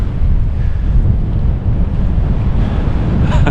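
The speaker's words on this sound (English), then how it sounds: "It is very windy" Strong wind on a seaside pier roars and buffets the microphone nonstop, a loud, steady rushing noise with a faint hint of surf beneath it.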